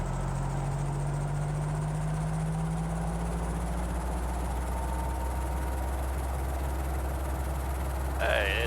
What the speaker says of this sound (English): So now I'm going to manually manipulate the throttle. We'll come up to 2000